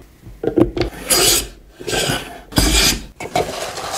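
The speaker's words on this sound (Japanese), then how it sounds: "かつお節を削る。" Dried bonito (katsuobushi) being shaved on a wooden plane box, a series of close, dry rasping strokes, each a short scraping burst with brief pauses between, about six strokes in an uneven rhythm.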